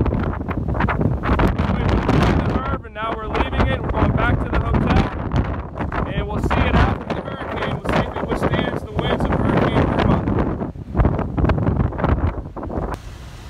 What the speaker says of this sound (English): It's windy as heck already.